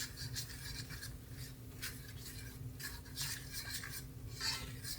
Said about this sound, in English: we're going to stir this around and we're going to cook this